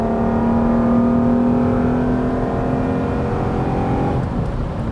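Acura engine under acceleration with VTEC engaging, a continuous loud whirring drone with a steady tone that climbs and shifts near the end as the revs change.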